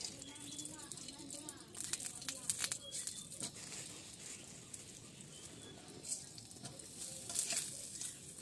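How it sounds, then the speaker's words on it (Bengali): Food frying in a pan while Eid dishes are cooked with ghee in a village kitchen: a faint, continuous sizzle with scattered scraping stirs and light clinks, with occasional bird calls in the background. "এখন লাস্টের সময় একটু ভাইজে নিব"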